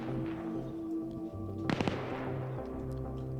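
Gunfire in an online tactical shooter match sounds as a quick cluster of sharp cracks in the middle, over a constant low background hum of game ambience, with no voices.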